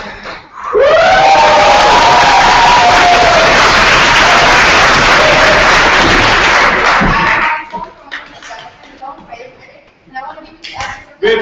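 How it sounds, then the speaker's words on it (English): Audience at an AIESEC Darmstadt election event cheering and shouting as a candidate enters: a loud, sustained crowd roar with yells lasting several seconds, then breaking off into scattered voices and talking. "and you're going to cheer me, okay?"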